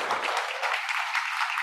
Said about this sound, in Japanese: もう一度大きな拍手